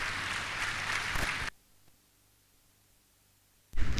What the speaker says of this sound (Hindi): तालियों की गड़गड़ाहट जारी रहनी चाहिए।